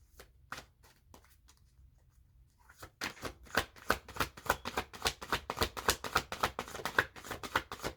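Oversized tarot cards being shuffled by hand, a few faint riffles at first, then a steady, close run of rapid crisp card slaps and flutters.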